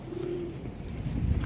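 Pigeons coo softly as they settle down to land near a coop, a low murmuring call rising over steady outdoor background noise.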